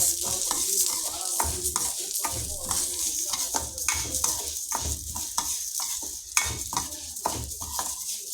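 Moong dal roasting in ghee in a pan for payasam, a spoon scraping and stirring continuously in rhythmic strokes over a soft, constant sizzle, close and fairly loud.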